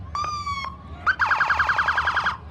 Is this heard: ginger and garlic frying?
no